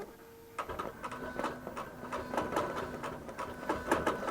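A QBOT V3 quilting machine starts stitching again after rethreading, its needle punching in a fast, steady mechanical rhythm of close, distinct clacks over a faint hum.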